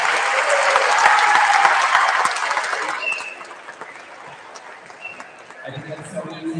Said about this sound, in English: So applause for that, I say.